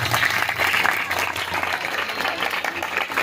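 Audience applause at a church worship service, a dense steady clapping that fills the whole short stretch at full loudness.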